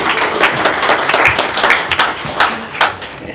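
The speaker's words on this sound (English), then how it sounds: "Let's give Beezer a round of applause." Applause from the audience at a sales meeting, a few seconds of dense hand clapping, close and fairly loud, with no voices over it.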